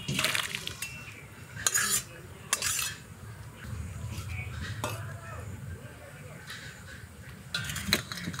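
Tengra fish curry with ridge gourd and potato being stirred in a pot, the spoon scraping and clinking against the metal in a few short bursts over a low simmering bubble, with birds cawing faintly in the background.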